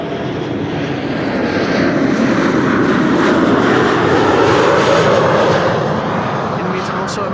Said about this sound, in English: KLM flight 980 arriving from London City is landing now.